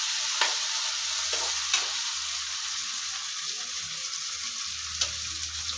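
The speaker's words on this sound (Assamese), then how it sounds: "এইটো ফ্ৰাই হৈ গৈছে" Food sizzles steadily in a thin wok (kerahi) over heat, with a few sharp clicks from stirring scattered through the constant close frying hiss.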